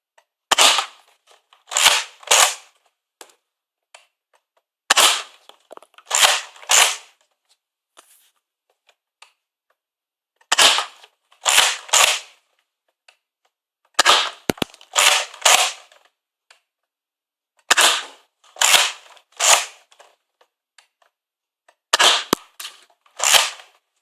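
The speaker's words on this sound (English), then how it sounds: "we'll put half a dozen rounds over the chronometer with the new Slingfire" A Nerf Slingfire blaster firing foam darts over a chronometer: sharp snapping shots in tight clusters of two or three, each group separated by a few seconds of near silence, close and crisp with no speech.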